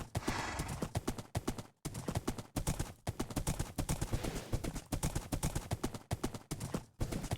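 Rapid rhythmic clip-clop of galloping horse hooves in a racing video game, steady repeated beats with brief gaps, fairly quiet, with no clear speech.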